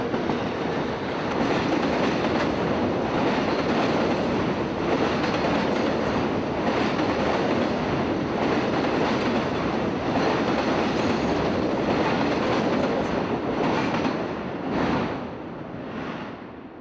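A CSX freight train led by an SD50 locomotive rolls past up close, a loud continuous rumble and clatter of wheels with rhythmic clickety-clack and occasional squeals, lasting the whole stretch before easing slightly at the end.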